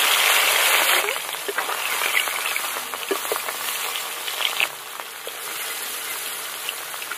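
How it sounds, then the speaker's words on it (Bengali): Rohu fish pieces coated in salt and turmeric frying in mustard oil in a wok, a loud continuous sizzle with crackling spatter, alone, easing slightly toward the end. "মাছ ভেজে নেব এবার।"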